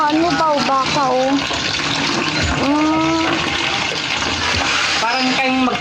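A hand water pump works outdoors, sending a continuous gush of water while several people talk nearby over it.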